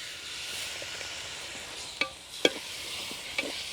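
Paste of two large tomatoes sizzling in Karaikudi chicken curry masala, a steady close frying hiss broken by a few sharp clicks of stirring.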